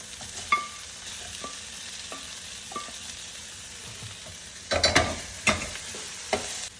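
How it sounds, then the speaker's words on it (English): Liver added to a pan of browned onions for a spicy liver fry, a steady low sizzle with scattered spoon clicks, then a louder burst of stirring and scraping near the end, close up and without talk. "so now I'm going to add the liver."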